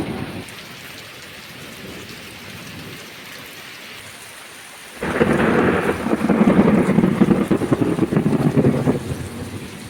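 Heavy rain pours steadily, swelling to a louder, denser downpour about halfway through, with a low rumble of thunder under it; no voices.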